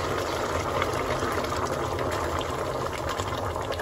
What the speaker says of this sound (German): Jetzt ich mache Wasser rein.